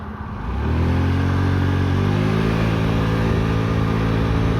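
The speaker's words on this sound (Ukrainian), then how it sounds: "Подивимося, як Honda набирає швидкість" A nearly new Honda Dio AF68 scooter from Japan, with about 7,000 km on it, pulls away: the engine note climbs smoothly and steadily as it gains speed, loud and close with no talking.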